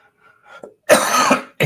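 A single hard, loud cough bursts out close by from a man with a cold, preceded by faint breathing and throat noise, then cut short as a second cough begins.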